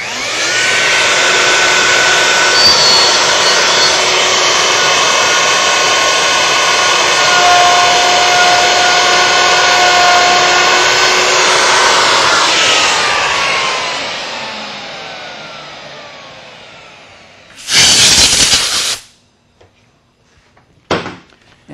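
A router cuts a workpiece along a template with a loud, sustained high whine for about twelve seconds, then spins down. Two brief loud bursts follow near the end.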